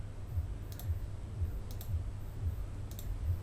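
Crisp computer mouse clicks repeating at a steady, even pace, about one every half second, close and alone with no talk.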